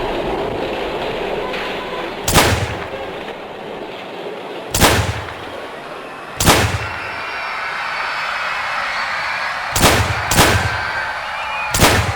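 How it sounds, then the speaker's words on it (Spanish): Sharp gunshots crack out at irregular intervals, six reports over a low rumbling background, some spaced seconds apart and two close together near the end. "Ante los sonidos de los primeros disparos"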